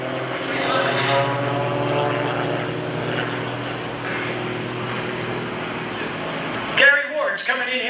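Aerobatic propeller airplane with its power pulled back, held inverted at an airshow, droning steadily at a distance under a commentator's voice, then cutting to a brief louder, choppier stretch near the end.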